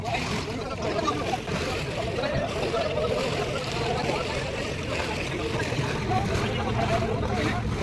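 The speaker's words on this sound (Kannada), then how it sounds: "ಅಲ್ಲಿ ನೋಡಿ ಬೋಟ್ ಬರ್ತಾ ಇದೆ ಅದು." A boat approaches across the sea at a beach in Kuwait, its steady engine drone and sloshing water forming a continuous mid-distance wash.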